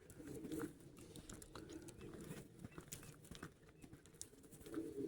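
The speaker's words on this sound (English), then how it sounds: "I don't know if you can hear the birds." Faint birds chirp and call outdoors in scattered short bursts over a soft, steady background hiss.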